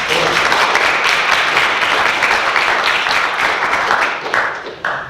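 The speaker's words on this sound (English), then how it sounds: "Can we have another round of applause for all of the 4 speakers, please?" Audience applause fills the room after a panel of four speakers at an education innovation event, dense steady clapping throughout that thins out and fades near the end.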